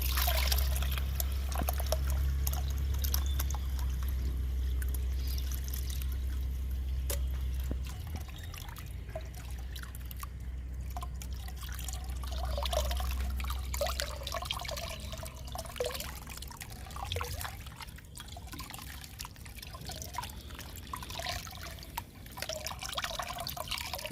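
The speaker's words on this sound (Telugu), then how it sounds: "ఒక్కొక్క బకెట్లో మూడు మగ్గులు పోస్తున్నా" Liquid chickpea cake fertilizer is poured from a mug into a bucket, an ongoing splashing trickle and drip over a low steady hum, continuous and fairly close, with no speech.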